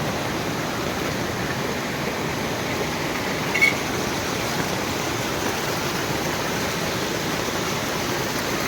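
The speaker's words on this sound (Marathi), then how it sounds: "कालपासून बोलतोय खूप पाऊस पडतोय खरंच खूप पाऊस खूपच आहे बघा" Heavy monsoon rain and rushing floodwater in a Konkan village make a steady, dense roar, constant and close throughout with no talking.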